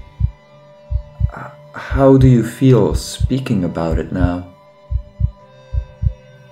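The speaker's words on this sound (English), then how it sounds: "beneath her voice I hear a steadily growing heartbeat." A slow, steady heartbeat sound effect in a narrated horror story, soft low thumps pulsing at regular intervals before and after a stretch of spoken narration, with a faint hum underneath.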